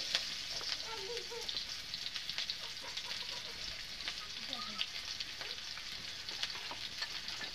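Chopped onion with bay leaf and dried red chilli frying in hot oil, a quiet, steady hiss with faint crackles and light spatula scrapes, fairly distant.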